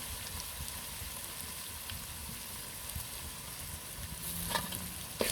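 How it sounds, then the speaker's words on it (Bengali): Onion, garlic and ginger sautéing in a pan for a winter vegetable curry, giving a steady, close sizzle with faint stirring scrapes throughout and no talking. "এখানে পেঁয়াজ রসুন আদা এগুলো দিয়ে আমি ভালো করে কষিয়ে নিচ্ছি"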